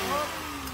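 Toyota Wigo with an automatic transmission idling, a steady low engine hum with a slight rise at the start, close and brief.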